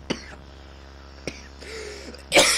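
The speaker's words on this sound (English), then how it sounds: "And a cough attack." Two or three short, sharp coughs come close to the mic at uneven intervals, followed by a louder, breathy burst at the end, with no speech around them.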